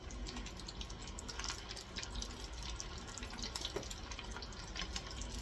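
Oil bubbles and sizzles in a mini deep fryer, a steady close hiss dotted with quick pops and crackles that runs without a break.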